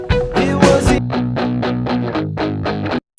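A distorted grunge electric guitar plays loud, chugging chords in a rock mix, with rhythmic strummed bursts and a sustained low drive, cutting off abruptly at the end.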